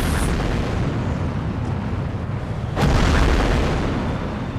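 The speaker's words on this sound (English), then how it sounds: "You have the solid rocket boosters that are really pounding the vehicle" Solid rocket boosters heard from inside the vehicle during launch, a loud, continuous low roaring rumble with heavy shaking, briefly jolted by a sharp crack before surging slightly louder.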